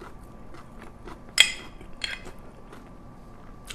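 Crunchy Korean radish salad (musaengchae) being bitten and chewed up close, with two sharp, crisp crunches about a second apart over a quiet background and no talking.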